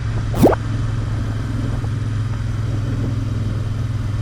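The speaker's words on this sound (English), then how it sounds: "leave you enjoying the puttering around of the Royal Enfield Interceptor 650" A Royal Enfield Interceptor 650 motorcycle putters along with a steady, low, throbbing engine drone. A brief rising whine cuts in near the start, and the engine stays at a constant loudness without speech.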